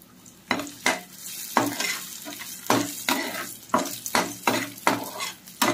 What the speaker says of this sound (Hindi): काजू किशमिश को ताको मध्य भाजी नवा